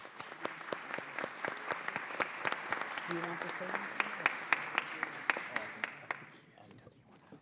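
Brief round of applause welcoming a congressman at a committee markup hearing, steady moderate clapping from a room audience that tapers off near the end, with a quiet voice speaking briefly over it.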